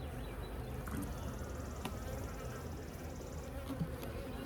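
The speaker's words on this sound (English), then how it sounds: "This first frame got a lot of bees on it." Honeybees swarm thickly over a frame from a Layens hive, a dense, steady buzzing close to the microphone with occasional louder individual bees passing near, and no talking.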